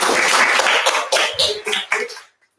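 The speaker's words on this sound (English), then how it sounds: "Let's give a big round of applause for" An audience at a student stage event breaks into a short, fairly close round of clapping that thins to a few scattered claps and then stops.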